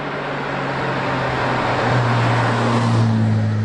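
A Jaguar E-type flat-floor open roadster, the oldest surviving chassis, drives with a steady, loud engine drone and rushing road noise, its pitch rising slightly as it pulls.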